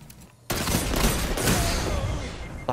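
Gunfire in a competitive shooter video game breaks out suddenly after a short quiet lead-in, then keeps going as a dense, loud run of rapid shots that continues to the end.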